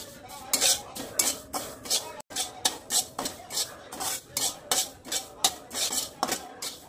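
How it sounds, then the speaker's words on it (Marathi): Poppy seeds dry-roast in a pan for a gum and dry-fruit barfi while a utensil stirs them in a steady rhythm of about two scraping strokes per second, close and fairly crisp, with a brief gap partway through and no talk. "थोडीशी आहे ना खसखस भाजून घेऊयात आपण"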